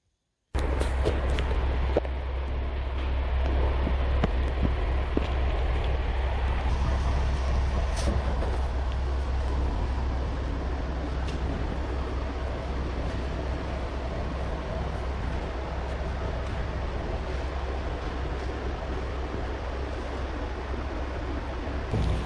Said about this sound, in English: Blower to blow the dust off of our stone right before we pull our scaffold down